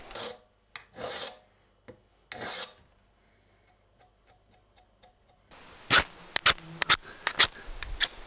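A file run along the spine of a stainless Helle Eggen knife so it can scrape a fire steel: a few short rasping strokes, then near-silence, then a burst of sharp scraping and clicks, all close.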